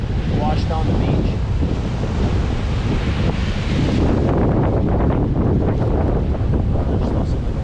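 Ocean waves wash up on Navarre Beach, Florida, at night, a continuous rushing surf heavily buffeted by wind noise against the microphone, with faint voices in the background.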